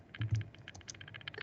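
Rapid, irregular clicking of keys on a computer keyboard, close and fairly quiet, with a couple of heavier thumps near the start and no talking.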